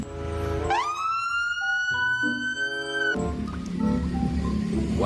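A toy ambulance gives off an electronic siren with a rising and falling tone, loud and up close. It runs for about two seconds and then drops to quieter background sound.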